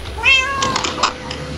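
Two or three short Minecraft cat meows, fairly close and clear, over a steady low background hum.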